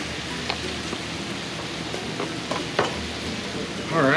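Bacon, peppers and onions cooking in one pot, a continuous crackling sizzle with a few stirring scrapes, close and moderately loud, a voice beginning briefly at the very end.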